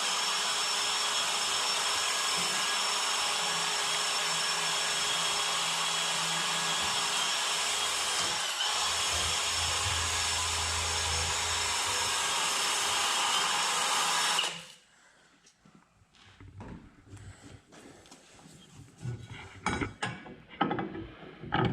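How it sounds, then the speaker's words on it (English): Wire wheel scrubbing old grass and dirt off the rusty underside of a machine kept in a barn all winter, a loud steady grinding whir for about fourteen seconds that then cuts out, leaving faint scattered scraping and clatter. "so we got a wire wheel. We're just going to go in here and clean all this old grass and stuff off"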